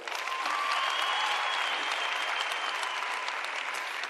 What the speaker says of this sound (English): Guys, please give them a round of applause.